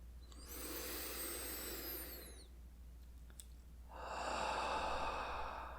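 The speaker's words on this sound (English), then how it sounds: "just inhale." Deep breaths in an ASMR breathing exercise, heard as two long, close, airy draws about two seconds each, separated by a short quiet pause, with nothing spoken.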